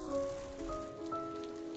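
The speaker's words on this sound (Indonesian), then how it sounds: "Aku benci hujan." Quiet rain falling on a surface, a soft continuous patter with faint tonal background, no voices.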